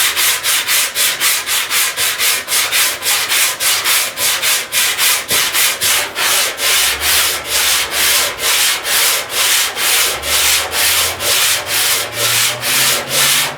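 Body filler being worked across a patch panel on a 1969 Chevrolet C10 truck front fender, a loud, steady rhythmic scraping that repeats in quick back-and-forth strokes, up close with no talking.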